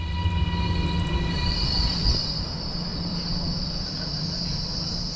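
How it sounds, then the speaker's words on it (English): A Chinese-built train rolls into a platform with a steady low rumble while a high, sustained wheel squeal rises and holds, loud and close. "the Sirius train arriving in the platform now following servicing in the sidings"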